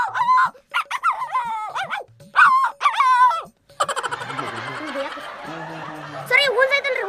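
A human voice imitates an angry puppy barking, giving a string of sharp, whiny yelps and growly barks, then a rougher, noisier stretch before a few more yaps close out.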